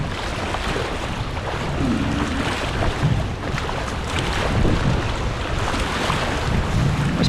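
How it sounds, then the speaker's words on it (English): Churning river rapids on the Huron River wash around a kayak in a steady, loud rush of turbulent water, mixed with wind buffeting the microphone and no voices. "Must be a lot of rocks underneath here, churning up all that water."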